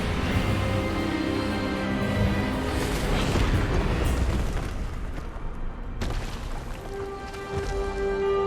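Expelliarmus spell effect in the video game Hogwarts Legacy, a loud booming magical blast that swells into a dense rumbling roar over sustained musical tones, then a second sharp burst before ringing notes carry on.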